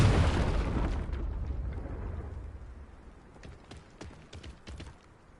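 The Confringo spell explodes in Hogwarts Legacy, a loud burst at the start that rumbles and fades, followed by scattered crackling debris.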